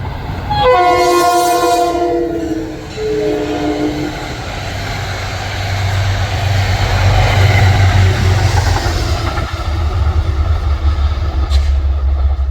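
A P32 locomotive-hauled passenger train roars past at close range, its horn sounding in loud repeated blasts at the start, followed by the sustained rumble of rolling wagons.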